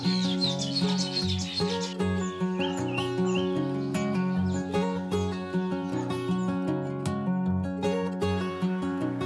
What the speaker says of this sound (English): watching the abundant natural bird life doing their daily chores